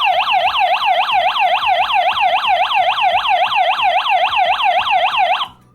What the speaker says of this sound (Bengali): এটি বেসিক্যালি একটি সাইরেন বা অ্যালার্ম হিসেবে কাজ করবে